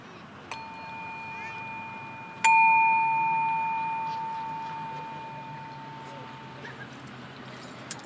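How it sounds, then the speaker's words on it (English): A bell rings once clearly, its bright metallic tone lingering and slowly fading over several seconds, preceded by a faint tap and set against quiet room noise. "One last ring of the bell"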